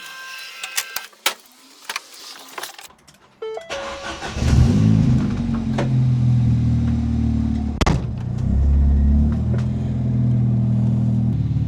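Ford Fiesta ST180 engine starting after some clicks and clatter, then idling loudly and steadily up close as it warms up, with a brief blip partway through.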